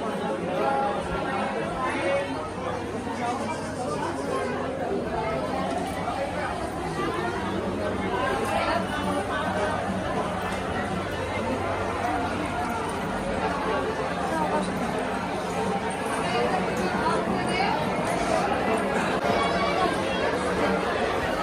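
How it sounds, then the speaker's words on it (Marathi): Dense, continuous crowd chatter fills the Tuljapur temple grounds on a busy Sunday, a steady babble of many overlapping voices close around the listener throughout. "गर्दी लयच आहे आता रविवार असल्यामुळं"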